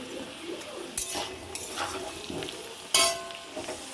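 Potatoes fry in a pan for a vegetarian aloo dum, giving a soft sizzle broken by a few sharp clanks of a utensil against metal.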